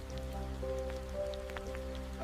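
Rain falls steadily onto a drenched forest floor, a soft patter of drops with scattered nearby drips over a low, even background hum, heard without any voices.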